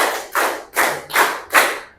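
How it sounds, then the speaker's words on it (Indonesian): Group of people clapping in short unison bursts, five evenly spaced sets of rapid claps each fading before the next, fairly close and clear with no talking, during an ice-breaking exercise at a teacher training session. "tepuk 1, tepuk 2, tepuk 3, tepuk 4, tepuk 5."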